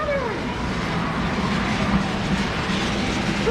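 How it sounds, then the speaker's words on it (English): A model train runs on a large layout at Choo Choo Barn in Strasburg, Pennsylvania, making a steady close rumble and clatter that continues unbroken through the clip. "Oh, there's a a train. Train going by."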